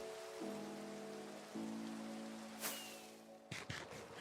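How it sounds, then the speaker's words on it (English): Steady rain falls in a Minecraft survival world as a dense, even hiss that lasts the whole stretch, with a few soft game clicks and thuds near the end and no talking. "I feel like it is forever raining."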